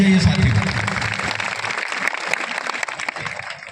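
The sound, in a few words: applause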